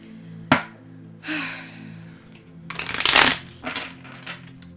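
Tarot cards shuffled by hand in a quiet room: a short riffle-like burst of papery rustling and flicking near the middle, with a few softer card taps and handling sounds around it.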